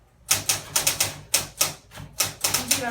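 Keys clack on an old manual typewriter, a close, irregular run of about a dozen sharp mechanical strikes with brief pauses between bursts and no talking over them.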